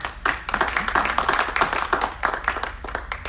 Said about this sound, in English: Give Dee a big round of applause.